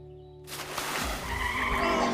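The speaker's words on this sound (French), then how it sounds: "McQueen part à la faute et sort de la piste!" Lightning McQueen, the animated race car, skids off the track with a sudden loud tire screech that cuts in after near silence and keeps squealing and scraping, close and intense.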